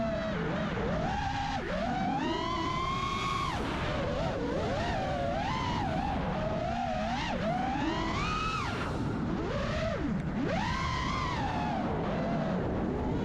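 A racing drone on Mepsking SZ2306 1950kv motors flies close by, its loud, continuous whine rising and falling in pitch with sweeping throttle changes and several sharp surges throughout.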